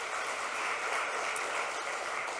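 A church congregation at a Sunday service applauds the young bass player, a steady wash of clapping that runs without a break at moderate volume.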